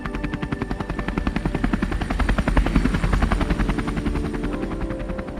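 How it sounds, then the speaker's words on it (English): Helicopters on a mountain rescue mission on Everest, with steady, rapid rotor blade chop loud and close throughout, a continuous pulsing thud under a high engine whine. "3 helicopters flew non-stop, evacuating hundreds of mountaineers in an unprecedented rescue mission."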